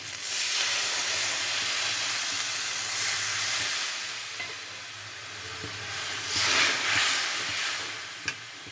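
Steady loud sizzle and hiss of water poured into a pan of frying prawn curry (chingri kalia), with a few brief stirring scrapes and bubbling swells partway through.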